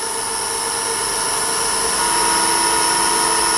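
A lathe runs at about 500 RPM while turning a wooden walking cane, making a loud, steady motor whine and hum close by with no breaks.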